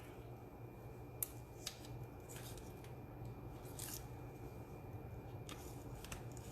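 Scissors trim a small paper card piece for a stamped card, a few faint, sharp snips spaced apart over a quiet room background.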